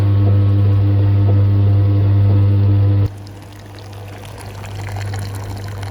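Water trickling and dribbling out of an AEG Electrolux condenser dryer running in test mode, heard over a loud steady machine hum that cuts off partway, leaving a softer continuous flow.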